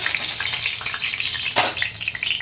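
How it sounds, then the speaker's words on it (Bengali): Hot oil crackles and sizzles loudly and steadily in a wok, a dense close frying hiss that carries through with one brief louder burst partway through. "কড়াতে তেল দিয়ে দিচ্ছি তেলটা আমার গরম হয়ে গেছে"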